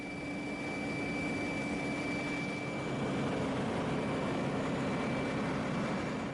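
Steady broadband roar of a Boeing 737 Classic jet engine running during taxi, with a fixed whine tone over the rumble, near and constant with no talk.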